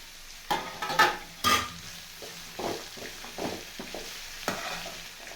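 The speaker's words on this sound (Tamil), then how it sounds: "முட்டைக்கோசு கீரையும் இதோட சேர்த்துட்டு ரெண்டுமே ஒரே டைமில் வதக்கணும்" Cabbage and greens being sautéed together in a pan, with soft sizzling under repeated scraping and stirring strokes, a few louder clanks early on, then irregular spatula scrapes at a moderate distance.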